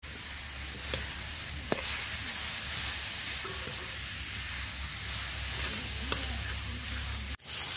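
Kholshe fish frying in oil with turmeric and Kashmiri red chili powder, a steady soft sizzle with occasional stirring scrapes and taps, close and alone with no talk.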